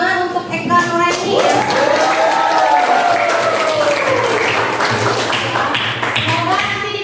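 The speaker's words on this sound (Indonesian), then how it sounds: "kita beri tepuk tangan untuk Eka Nurani." A classroom of students claps hands together, a loud, steady round of close clapping lasting several seconds, with a voice rising and trailing over the applause.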